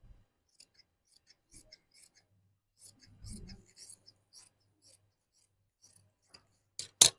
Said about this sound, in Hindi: दोनों को साथ काट लेते हैं। पहले तो इसको काट लेते हैं।